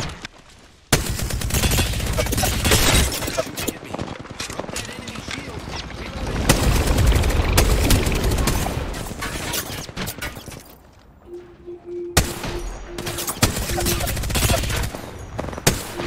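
Dense gunfire from a gun in the video game Apex Legends, with rapid bursts and volleys across most of the clip and a short pause near the middle before the shooting resumes, mixed with other game noise.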